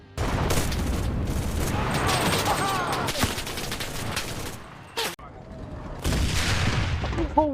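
Dense gunfire from a shooting video game, with rapid bursts, booms and explosions layered into a loud, busy barrage that briefly drops out near the end before resuming.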